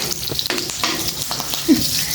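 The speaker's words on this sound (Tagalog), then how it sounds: "Igisa ko na itong bawang." Garlic and onion sauté in a hot pan, a steady close sizzle with occasional stirring scrapes and a brief louder clatter partway through.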